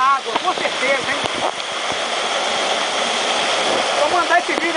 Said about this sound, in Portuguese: dentro da caverna da cachoeira do Índio